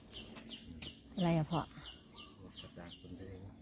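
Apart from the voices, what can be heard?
chicken clucking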